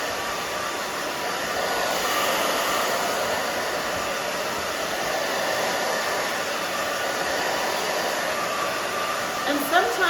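Hair dryer on high speed with medium heat blowing steadily through a short pixie cut, a loud, close, continuous airy roar lasting ten seconds, with a brief clatter at the end.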